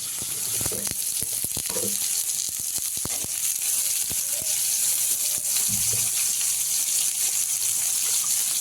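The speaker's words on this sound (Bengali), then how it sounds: "এদিকে মাছের এক পিঠ ভাজা হয়ে গেছে" Loud, steady sizzling of fish frying in hot oil, with occasional light clicks and scrapes.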